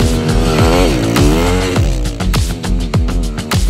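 A YCF pit bike's small motorcycle engine revs hard while riding, a loud, buzzy, close tone climbing and dropping repeatedly as the throttle opens and closes in quick bursts.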